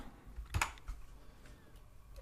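Keyboard and mouse clicking while selecting polygons in Blender: one sharp, close click cluster followed by a fainter tap, over quiet room noise.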